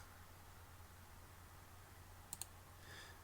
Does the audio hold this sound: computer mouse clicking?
yes